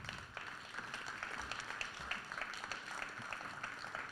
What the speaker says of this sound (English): let's give one more round of applause for our panel here